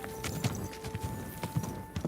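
Horse hooves clip-clopping in Kingdom Come: Deliverance II, a quiet, steady walking rhythm of individual hoof strikes over a faint background tone.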